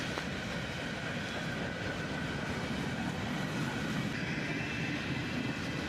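Freight train boxcars, among them a worn Conrail car, roll past in a steady, dense rumble with light wheel clatter.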